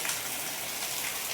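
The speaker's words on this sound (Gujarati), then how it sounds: "ઘણો બધો વરસાદ ચાલુ થઈ ગયો માતાજીની દયાથી" Heavy monsoon rain pours down near a Khodiyar Mata temple in Dabhsar, a dense, even hiss of drops on surfaces, steady and moderately loud with no voices.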